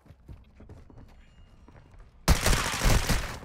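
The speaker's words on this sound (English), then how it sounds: "I'm being shot from somewhere." Gunfire in the video game Call of Duty: Modern Warfare II: quiet scuffling at first, then a sudden loud burst of rapid shots and dense clatter filling the last second.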